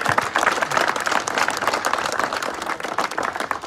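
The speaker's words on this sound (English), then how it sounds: "them a big round of applause." Sustained crowd applause at a political endorsement rally of NYPD police unions, dense loud clapping running steadily throughout with no speech.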